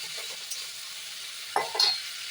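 Potatoes fry with a soft, steady sizzle in a pan, and a brief scrape of stirring near the end adds a light clink.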